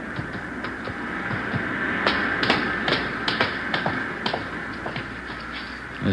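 A key rattles and clicks in a front door lock, a run of sharp metallic taps and scrapes over a steady background hum, close and moderately loud with no talking.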